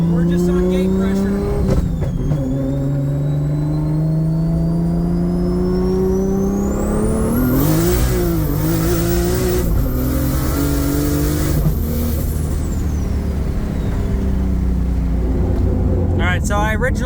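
A car with a dogbox transmission accelerates hard on boost, its engine note rising through the gears with rapid upshifts and whining gear noise, loud and close from inside the cabin, with a person talking over it.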